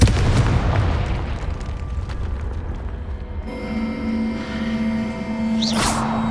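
Confringo fire spell explosion in Hogwarts Legacy gameplay, a sharp blast opening into a rumbling burst, followed by a rising magical whoosh and sustained hum, loud and with no talking.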